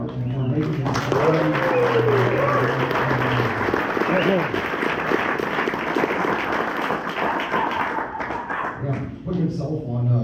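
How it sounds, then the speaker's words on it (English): Sustained audience applause and cheering for Mark at a live event, loud and continuous throughout, with voices mixed into the crowd noise. "how about a big round of applause to Mark"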